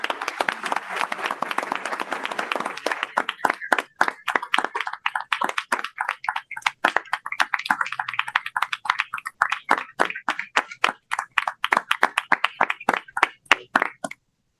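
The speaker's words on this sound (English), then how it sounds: "I would just like everybody to stand and give them a round of applause" A standing audience at a village board meeting bursts into dense applause for an EMS team, thinning over time into scattered individual claps that fade out near the end.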